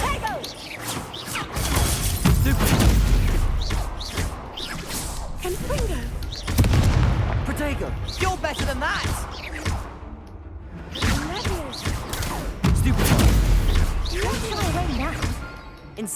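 Spell blasts, whooshes and crashing explosions from Hogwarts Legacy combat, loud bursts in quick succession with shouted spell names over the action.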